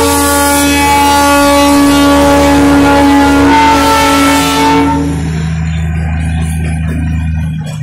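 Darjeeling's diesel-hauled joy ride toy train gives a loud, sustained tonal blare for about five seconds, then settles into a steady, lower engine rumble.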